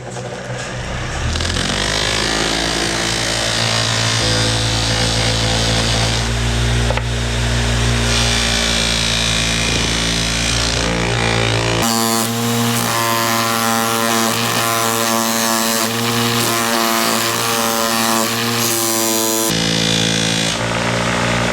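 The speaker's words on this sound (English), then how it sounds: "I'll try polishing." A power tool polishes a steel coaster with a loud, continuous whirring grind at close range, holding a steady tone for most of the time and then shifting pitch midway through.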